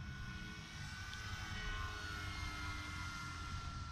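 E-Flite Night Timber X radio-controlled airplane flying slowly and close at a winter fly-in, its electric motor and propeller giving a steady, continuous whirring drone throughout with no talk.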